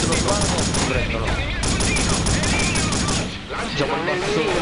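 Dense, sustained automatic gunfire from the video game Delta Force Black Hawk Down: loud overlapping bursts and volleys with barely a pause, briefly easing near the end, with voices mixed in.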